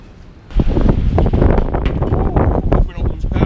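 Strong wind from a nighttime storm in the Northeast roars against the microphone outdoors, rising suddenly into loud, gusty buffeting that surges and dips through the rest of the stretch.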